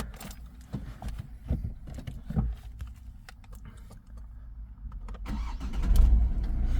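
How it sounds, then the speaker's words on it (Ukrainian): An Opel Astra car engine cranks and turns over, settling into a low steady rumble with a louder surge near the end; no talking. "Автомобіль заводиться без проблем"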